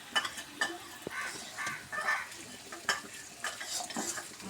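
Onion, garlic and chillies frying in oil until browned, a soft continuous sizzle broken by scraping stirs of a utensil against the pan, close and fairly quiet with no talking.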